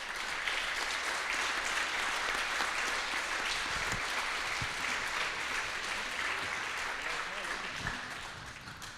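A lecture audience claps steadily to welcome the speakers, giving a dense, even wash of applause from a sizeable crowd that lasts throughout and fades slightly at the end.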